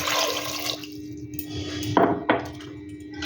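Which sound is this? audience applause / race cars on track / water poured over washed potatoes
water poured over washed potatoes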